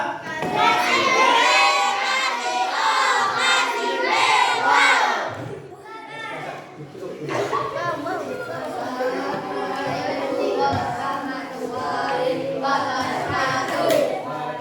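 Classroom of schoolchildren shouting and cheering together for a presenting group, loud, excited overlapping voices with scattered clapping, a brief dip midway before the noisy cheering surges again.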